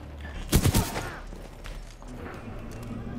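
Gunfire in the video game Titanfall 2 sounds as a quick burst of three or four sharp shots, followed by a steady hum of game ambience and faint mechanical noise.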